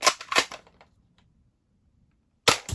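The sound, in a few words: Nerf Dinosquad Raptor Slash toy blaster firing shots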